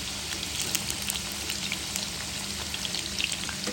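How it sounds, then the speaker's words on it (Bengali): Potatoes and onions fry in hot oil for Arabian-style chicken biryani, giving a steady close sizzle with crackling pops throughout and no talking. "আলু আর পেঁয়াজ ভেজে নিব"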